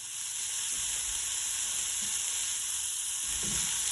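Onions and peppers sizzle in a little bacon grease in a pan, with a continuous bright hiss and frying crackle and occasional low stirring bumps, close and steady.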